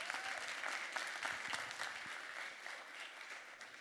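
Audience at an influence marketing awards ceremony applauding a silver winner, a dense, moderately faint wash of clapping from a crowd lasting a few seconds.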